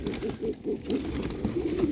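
Caucasian tumbler pigeons coo in a coop, a close run of soft, rhythmic low coos repeating about every quarter second over a brief span.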